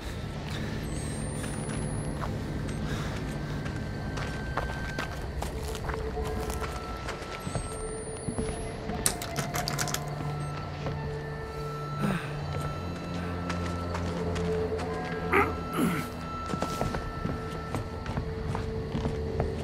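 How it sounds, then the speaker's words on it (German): Footsteps in the horror video game Outlast 2, soft repeated steps under a dense layer of game ambience and scattered clanks, steady and fairly close throughout, with no one speaking. "Oder ich höre Schritte."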